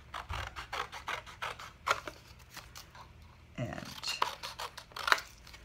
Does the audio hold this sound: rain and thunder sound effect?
no